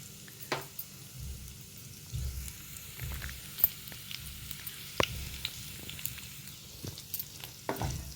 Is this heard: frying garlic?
yes